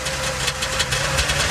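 A Trabant car engine runs steadily at close range, a loud, rough two-stroke idle with a dense buzzing drone and rhythmic knocking pulses, heard alone without voices.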